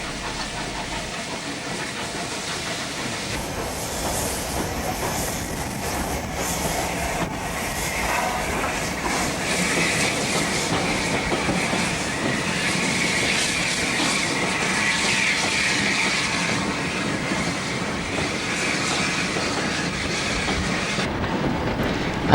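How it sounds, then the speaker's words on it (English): Steam locomotive 850 easing into platform 3 at Bury on the East Lancashire Railway, a continuous rumble of wheels and clanking rods with soft steam hiss, steady and fairly close throughout, no talking. "850 sneaks past into platform 3."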